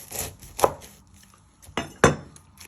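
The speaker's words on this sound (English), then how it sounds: "Chop it down the middle. You do the same with your other ends." Onion being chopped with a knife on a board while making chicken tagine, a few sharp, separate knife strikes close up with quiet gaps between them.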